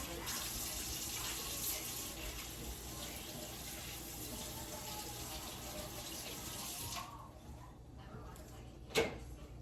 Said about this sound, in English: I'm gonna wash my hands again right quick.